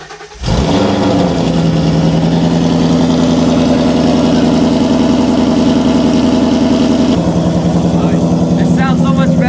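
A 2019 Ford Mustang GT engine starts, then runs loud and close at a steady deep idle, shifting slightly in tone near the end.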